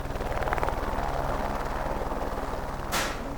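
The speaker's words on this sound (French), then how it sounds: "L'hélicoptère vient en moyenne une fois par semaine." Steady low rotor drone of a helicopter on Mont Blanc throughout, loud and continuous, with a brief hissing burst near the end.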